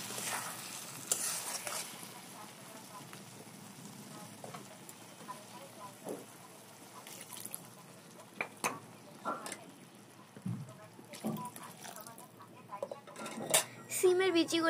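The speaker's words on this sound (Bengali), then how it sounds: "এবার সিমের বিচিগুলোকেও খুব ভালো মতো একসাথে নাড়িয়ে ভেজে নেব।" Bean seeds and tomato stirred and fried in a pan, a soft sizzle under scraping and knocks of a spoon against the pan, with a voice speaking over it.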